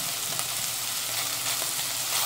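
Garlic cloves frying in a pan give a steady, close hiss of sizzling oil with no voices over it.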